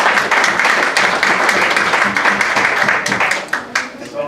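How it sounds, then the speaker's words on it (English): A group at a YMCA and hospital healthy-lifestyle evening gives itself a round of applause, a fairly loud burst of many hands clapping that runs for a few seconds before thinning out. "let's start off by giving yourselves a big round of applause"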